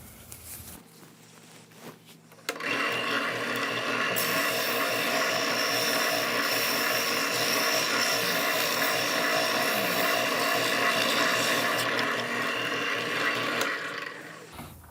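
A loud power sander on small scrap wood pieces whirs steadily for most of the clip after starting abruptly, with a quieter hum before it kicks in.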